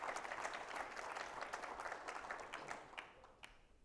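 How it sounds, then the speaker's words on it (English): An audience applauding steadily, dense clapping that gradually thins and fades toward the end. "Big round of applause."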